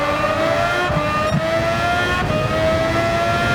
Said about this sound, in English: We hear both Dex and Serginho fly past.